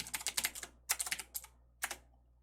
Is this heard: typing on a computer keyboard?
yes